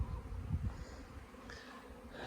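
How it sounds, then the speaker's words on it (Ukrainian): Honeybees flying out of their hives on the first cleansing flight of a sunny spring day, a steady soft buzzing drone with some low handling noise early on, heard outdoors with no talking. "Весняна погода, радість для бджол, для бджіл."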